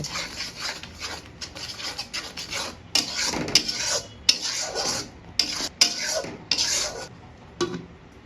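Fried spices with chili, coriander powder and bay leaves being stirred in a pan for biryani: a spoon scrapes and clatters against the metal in uneven, close strokes, with louder scrapes coming in bursts.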